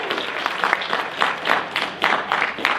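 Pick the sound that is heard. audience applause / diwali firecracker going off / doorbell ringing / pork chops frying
audience applause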